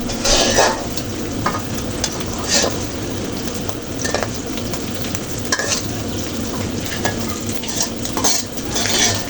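Soaked dried shrimp fry in hot oil with a constant close sizzle while a big ladle stirs and scoops them, its metal scrapes and clinks against the pan breaking through at irregular moments.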